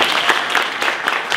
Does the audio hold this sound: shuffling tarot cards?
no